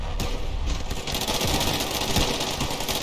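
Rapid automatic gunfire from the video game Ravenfield rattles in dense, continuous bursts for the whole stretch, loud and close, with no talk over it.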